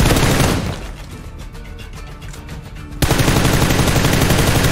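Automatic gunfire in the battle royale game PUBG Lite, loud rapid bursts at the start, a quieter stretch of dense rattling shots, then a sudden loud return of heavy continuous firing.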